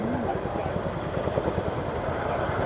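Helicopter rotor blade slap at the RAF Cosford airshow, a steady rapid thudding pulse with engine drone running throughout, loud and continuous while a voice talks over it.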